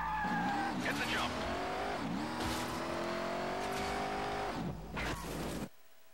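A car drifts and jumps in Stuntman Ignition: a sustained engine drone and tire squeal shift pitch through the slide, with bursts of impact noise, and everything cuts off abruptly near the end.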